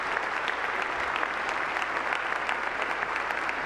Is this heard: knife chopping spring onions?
no